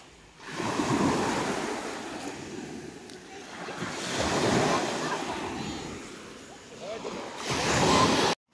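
Sea waves wash ashore at Kaputaş beach near Kaş, Turkey, in repeated rising and fading surges with wind buffeting the microphone and some voices in the background.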